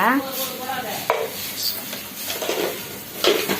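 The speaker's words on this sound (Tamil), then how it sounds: "எல்லாம் மிக்ஸ் பண்ணிக்கணும்." Salt is mixed into ingredients in a bowl, with close wet stirring and clinking against the bowl in short irregular bursts. A voice is heard briefly at the start.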